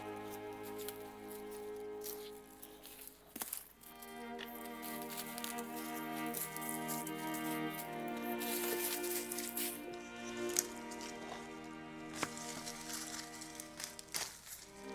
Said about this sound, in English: I'm just cutting the rosettes off.